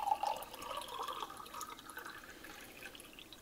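Water pours steadily into a measuring container and spills over the rim, a continuous splashing trickle that stays fairly quiet and even throughout.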